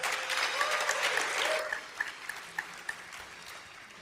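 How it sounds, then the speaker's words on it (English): A small crowd at an agency awards ceremony claps in a brief round of applause that thins out after about two seconds into a few sharp, isolated claps. "Give a round of applause."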